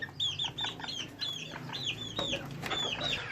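Several chickens in a coop cluck and squawk close by in quick, overlapping calls, with faint background noise.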